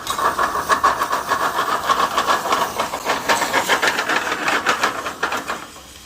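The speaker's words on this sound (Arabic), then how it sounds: "القلايه دي الحين حطيت زيت زيتون. زيت زيتون بنحط ثوم شوي" Garlic sizzles in olive oil in a frying pan for Spanish garlic shrimp, a steady loud hiss that runs on without pause and with no voices over it.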